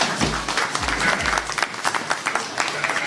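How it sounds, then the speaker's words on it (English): Brief burst of audience clapping at a farm show after a sheep shearing demonstration, moderate and close, fading within a few seconds amid light crowd noise. "A round of applause,"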